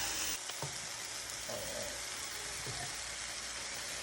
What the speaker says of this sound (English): So the mushrooms have been cooking for 5 minutes.